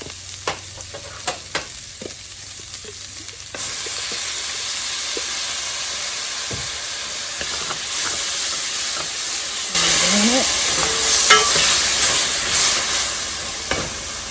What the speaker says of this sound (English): Add in some minced garlic.